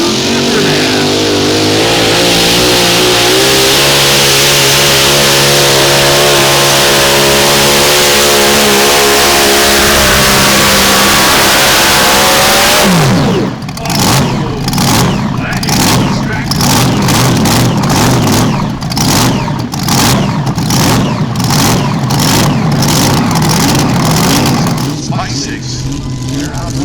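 A modified mini tractor's engine roars loud and close in a tractor pull at the Pullers Championship in Nashville. It holds a sustained, rising rev, then breaks into a rapid pulsing rattle, with an announcer's voice over the crowd noise.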